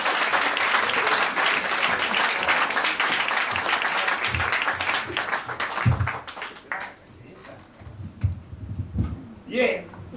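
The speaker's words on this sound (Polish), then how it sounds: "wielkie brawa" Audience applause for a stand-up comedian, a full roar of clapping for about six seconds that thins into scattered claps, with a voice speaking over the tail.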